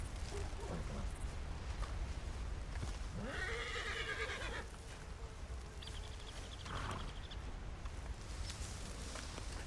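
A horse in a RedM roleplay game whinnies loudly once, backed by clip-clopping hooves and steady ambient game noise, with no talking.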